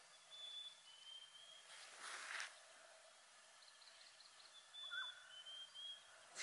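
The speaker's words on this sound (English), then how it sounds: "Can you hear that bird?" A bird calling on a desert hiking trail at Vasquez Rocks, with a few faint, distant, thin chirps scattered over a quiet outdoor backdrop and a brief rustle in between.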